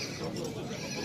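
A horse at a livestock market whinnies briefly and loudly, close by, over crowd noise and nearby talking.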